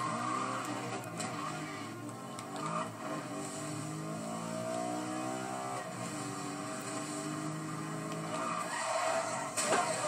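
A Bentley in the racing game Need for Speed: Most Wanted skids with long squealing tyres over a steady engine drone, with a few thuds of impact, heard without any talk.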